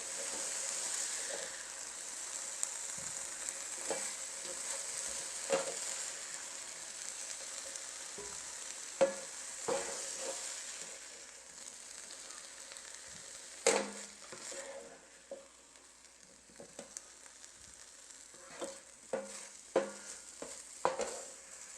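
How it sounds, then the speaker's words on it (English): Meat sizzles in a fry pan while a utensil stirs and scrapes it, with a steady hiss and scattered sharper clinks and scrapes near the end. "now I'm going to take the meat out of the fry pan and put it in this bowl"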